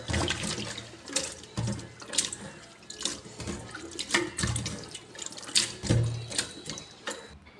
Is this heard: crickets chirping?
no